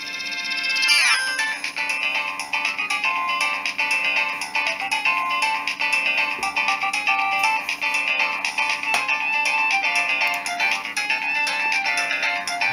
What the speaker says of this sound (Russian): Это 32-голосная полифония звучит у нас.